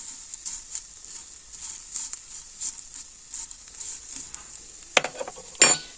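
Steady crackling sizzle of dandelion stems frying in a pan over low heat, with a few metallic clinks and scrapes near the end.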